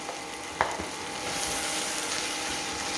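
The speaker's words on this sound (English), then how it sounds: "We're just going to fry that afresh for about a minute until the flour cooks off." Flour frying in a pan with seitan shanks to thicken a sauce, a steady close crackling sizzle with a single sharp utensil tap early on.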